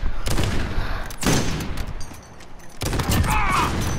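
Sharp, loud gunshots crack out in a video game, one at the start and another near the middle, then a third burst follows a short lull.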